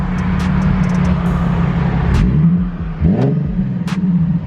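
An Infiniti Q50 fitted with a Motordyne Shockwave exhaust revs loudly and close by, two sharp throttle blips rising and falling over a rumbling idle, with no voices.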